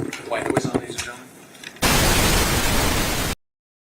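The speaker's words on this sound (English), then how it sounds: "White noise on, ladies and gentlemen." Loud, flat hiss of white noise switched on in a courtroom to mask the proceedings, starting abruptly after a voice and holding steady for about a second and a half before cutting off.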